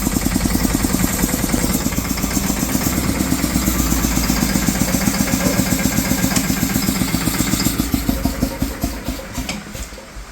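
Tractor engine running steadily in a village field, a loud, close, rhythmic chugging with a dense clattering pulse that thins out and grows uneven near the end.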